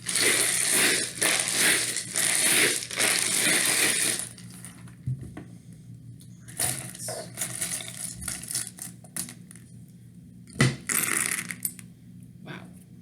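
Small hard charms rattle and clatter together in a busy burst as they are shuffled, then scattered clicks and clinks follow at intervals, close by, with no talking.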